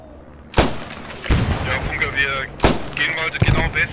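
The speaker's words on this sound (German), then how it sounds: "Von links Beschuss." Gunfire rings out in the video game Post Scriptum: loud, sharp shots crack close by at irregular intervals while voices talk over the noise.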